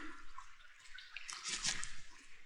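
Water of an open-air spring trickles and splashes softly in a quiet outdoor setting, a faint steady flow with small drips and burbles, no voices.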